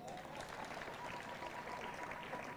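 A crowd at a political rally in Kenya claps steadily and evenly throughout, a dense wash of applause heard from a moderate distance.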